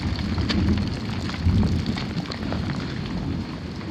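Steady rain pours onto the sheathed exterior of a new pre-drywall house under construction in North Texas with no gutters yet, a dense, even patter with no voices.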